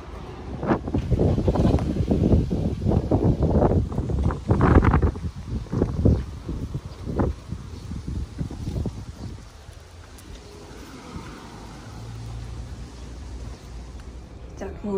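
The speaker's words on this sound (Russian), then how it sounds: "На улице ужасно дует ветер" Strong gusting wind blowing sand outdoors, buffeting the microphone with a loud rumble, fading to a softer rush toward the end.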